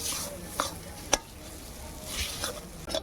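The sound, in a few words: potatoes being fried and stirred in a pan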